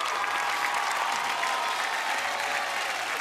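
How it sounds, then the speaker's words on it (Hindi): Dense, steady applause from a studio audience on a Hindi game show, loud and continuous throughout with no voices over it. "जोरदार तालियां।"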